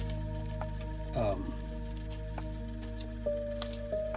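Mixed resin is scraped off a stirring paddle, making a short wet squish and a few soft sticky drips against a quiet, steady background hum.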